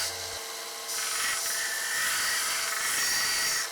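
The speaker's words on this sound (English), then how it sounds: "Cleaned up again with the cutoff wheel." An angle grinder's cutoff wheel cleans up a hook knife blade cut from an old saw blade, giving a steady, loud, high-pitched grinding whine that holds for several seconds with no pauses or speech.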